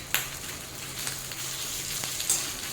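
Ginger-garlic paste cooks with nearly browned onions in a pan over a low flame, giving a soft, even sizzle with a few sharp pops and crackles along the way.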